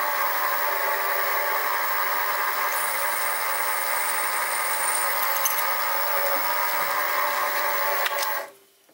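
A hole being reamed to 3/16 inch in a bracket for a Stuart 10V model steam engine's reverse gear, a loud, steady whirring machine drone that runs continuously and then cuts off abruptly at the end.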